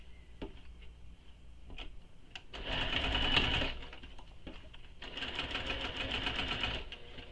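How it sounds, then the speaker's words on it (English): A sewing machine stitches a seam across a mini backpack, a quiet mechanical chatter that starts with a few ticks, then runs in two short, steady bursts of rapid stitching. "we're going to sew across this using the seam allowance given in the pattern"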